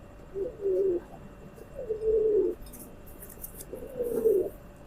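Kamagar pigeon cooing close by: three soft, low rolling coos spaced evenly over a few seconds against a quiet background hum.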